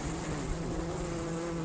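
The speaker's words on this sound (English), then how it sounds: "This is the sound of a happy hive." A steady, dense buzzing hum of many bees fills the air continuously, a close and even drone without pauses.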